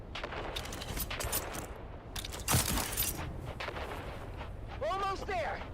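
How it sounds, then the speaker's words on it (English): Grenade explosions and gunfire burst through a firefight in the video game Dune Awakening, with a loud blast near the middle over continuous battle noise and a voice talking throughout. "On 3, We grenade and move. 3, 2, grenades out!"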